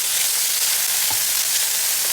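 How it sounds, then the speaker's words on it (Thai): Curry paste and garlic stir-fry in oil in a wok for Thai spicy catfish with pickled bamboo shoots, giving a loud, steady, close sizzle throughout. "ผัดเครื่องแกงให้หอมค่ะ"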